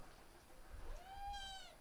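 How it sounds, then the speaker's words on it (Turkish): A single cat meow, rising then falling, fairly faint over a quiet background hiss. "Miyavlama."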